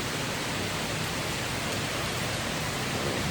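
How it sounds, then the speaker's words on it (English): Heavy tropical rain pours down on Koh Rong Island in the early morning, a dense, unbroken hiss of drops drumming on surfaces, loud and steady throughout. "it has been absolutely bucketing down like this"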